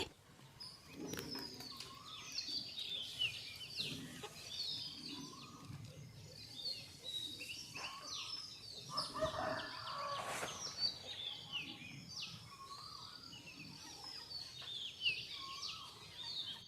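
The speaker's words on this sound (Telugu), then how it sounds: "చూసారా పక్షులన్నీ ఎంత బాగా అరుస్తున్నాయో" Birds calling in a village in the early morning, scattered chirps and short calls at a distance over a quiet, faint background.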